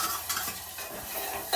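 Oggarane tempering for milk saaru sizzles hard once chili goes into the hot pan, a bright, loud, hissing fry with quick stirring scrapes and a light clink of a spoon on metal, all close up and over in a moment.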